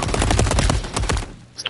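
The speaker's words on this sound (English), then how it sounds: "That sentry gun is eating us up" Rapid automatic fire from a sentry gun in Modern Warfare 3 hardcore multiplayer, a loud close burst of sharp repeated shots for over a second before cutting off, followed by a brief clatter.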